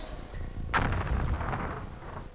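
An aimed weapon shot from the video game UFO: Enemy Unknown, a single sharp blast about midway followed by a rumbling, fading tail.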